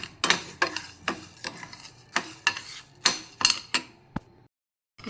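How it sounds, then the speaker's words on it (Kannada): A spoon stirs sago pearls frying in ghee in a pan, giving a rhythmic series of sharp scraping clinks about twice a second, close and clear, ending in a brief silence. "ನಾನು ಸಬ್ಬಕ್ಕಿನ ಒಂದು 2 ನಿಮಿಷದ ಕಾಲ ಸ್ವಲ್ಪ ತುಪ್ಪ ಹಾಕಿ ಫ್ರೈ ಮಾಡ್ಕೊಂಡಿದ್ದೀನಿ"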